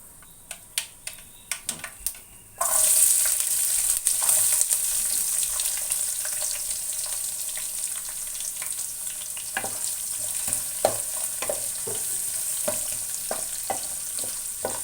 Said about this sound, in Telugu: ఉల్లిపాయలు బాగా వేగాలి ఉల్లిపాయలు వేగుతున్నాయి కదా